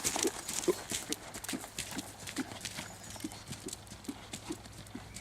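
Horse hooves beat in a steady three-beat canter rhythm during dressage training, clear and fairly close on an arena surface, with a faint voice in the background.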